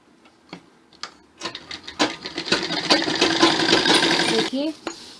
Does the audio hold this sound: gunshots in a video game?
no